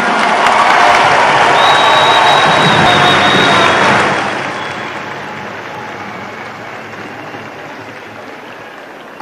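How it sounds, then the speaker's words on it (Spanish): A large crowd applauds and cheers in a loud, dense roar for several seconds, then the noise quickly drops to a softer, fading murmur. "Pido por favor un primer fuerte aplauso a Simón Bolívar que nos guía."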